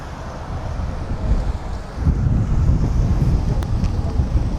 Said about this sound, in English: I can feel the wind now, it's really strong.